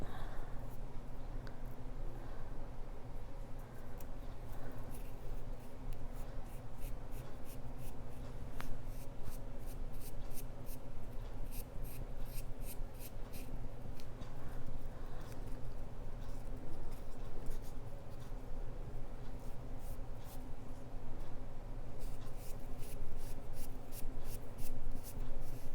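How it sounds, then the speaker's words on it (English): A strip of paper is turned on a quilling pen while making paper quilling flowers, giving a steady, close, soft scratchy rubbing that runs throughout with faint rhythmic ticks and no talk. "Gonna put the paper into the quill pen"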